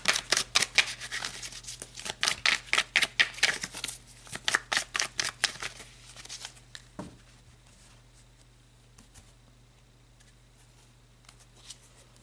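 Tarot cards shuffled by hand in quick, crisp riffling bursts for about seven seconds, followed by a few softer slides and taps as cards are drawn and laid out, close and alone with no talking.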